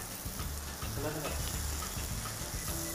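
Vegetables go into a pan of frying onion and tomato, producing a steady, close sizzle with soft stirring and scraping throughout.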